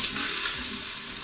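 Potatoes with bacon bits fry in a Cookeo multicooker, giving a steady, even sizzling hiss that runs throughout with no talk.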